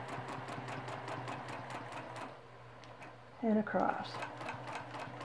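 A sewing machine stitches free motion quilting across a block in rapid bursts of needle ticks, then slows and pauses while a person speaks briefly near the end.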